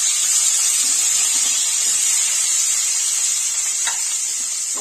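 Tomato halves sizzle in oil in a pan on a stove, giving a steady, bright hiss that holds throughout at close range, with a single faint clink near the end.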